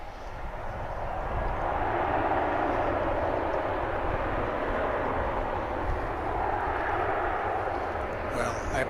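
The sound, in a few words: American Airlines flight from Los Angeles at DFW Airport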